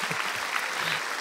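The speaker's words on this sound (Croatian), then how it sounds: "Aplauz!" Audience applause on a Serbian TV entertainment show, a steady dense clapping from a studio crowd with a band nearby, continuous and fairly loud for about a second.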